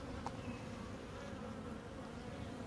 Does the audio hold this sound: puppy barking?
no